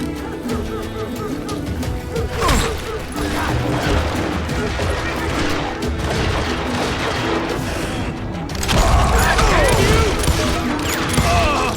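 Dense, continuous gunfire from the Western shooter video game Call of Juarez: Gunslinger, with rapid overlapping shots, impacts and crashes, growing heavier near the end.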